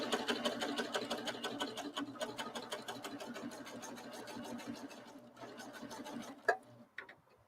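Serger sewing machine stitching off a thread chain, a fast steady rattling run that slows and stops near the end, close by with no speech.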